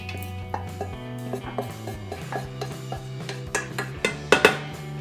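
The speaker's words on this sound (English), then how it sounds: "put that into a bigger bowl. And we're going to mix in all the ingredients." Utensils clink and scrape against a bowl as lasagna ingredients are stirred, with irregular knocks that grow sharper and louder toward the end.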